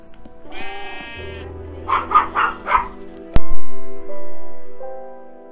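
A few short, bright bleats from a sheep in a video game, rising and pulsing over a steady synthetic tone, followed by a sharp click and a sustained electronic hum.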